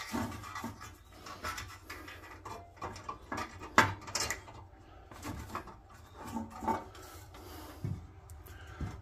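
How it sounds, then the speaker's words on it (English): A 3/16 chainsaw file rasps in uneven strokes against the frame of a Tonka COE flatbed hauler toy, sounding close and scratchy with short pauses between bursts. "That's where I can file. Chainsaw file."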